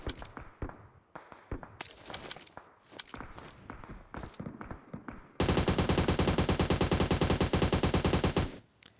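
AUG rifle in the mobile game PUBG Mobile: scattered clicks and clacks of a reload, then a sustained rapid burst of automatic fire lasting several seconds before stopping abruptly, loud and close.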